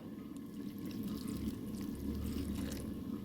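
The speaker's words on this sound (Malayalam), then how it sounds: "അതിനാവശ്യമായി കുറച്ച് വെള്ളം ഒഴിച്ചു കൊടുക്കുക" A little water is poured over chopped jackfruit in a cooking pot, a soft, steady stream splashing nearby without pause, with no talking.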